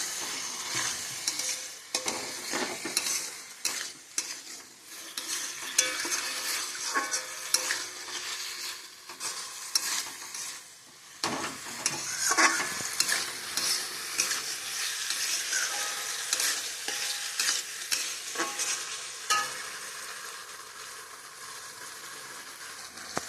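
Raw banana kofta masala with boiled potatoes is stirred and sautéed in a pan, giving a continuous sizzle with irregular scraping and stirring strokes, and no voices.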